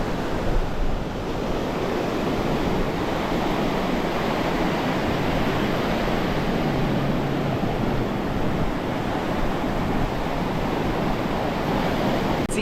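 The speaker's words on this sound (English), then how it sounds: "the waves are acting up and it's awesome" Ocean surf breaking on a beach at Santa Maria, Cuba, with strong wind buffeting the microphone; a steady, loud wash of broadband roar with no distinct pauses and no talk.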